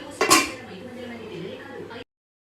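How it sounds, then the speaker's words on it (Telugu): A metal lid set on a cooking pot of egg and drumstick curry, a bright clanging clink followed by a softer rattle and simmering background, with a voice speaking briefly. "మూత పెడదాం."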